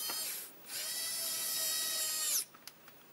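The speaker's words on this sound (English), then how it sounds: "I will screw in some more of the screws so that they can be sure" A screwdriver motor whirs steadily, driving screws into a Commodore C64 case, a sustained buzzing run of about two seconds that stops abruptly and is followed by a few small clicks.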